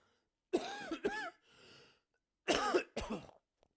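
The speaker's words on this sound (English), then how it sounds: "I do have a bit of a cough" Two separate bursts of harsh coughing, each a quick cluster of hacks, with a softer breathy rasp in the quiet gap between them.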